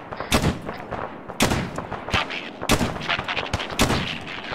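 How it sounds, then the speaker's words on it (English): Gunfire in the ARMA video game, loud, sharp shots cracking out at irregular intervals, some single and some in quick pairs, close and echoing, with no talk over them. "we're taking fire past the dismount point"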